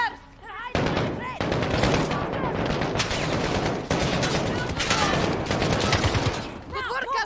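Rapid bursts of automatic gunfire from the video game Modern Warfare 2, loud and nearly continuous with brief gaps, with voices shouting briefly at the start and end.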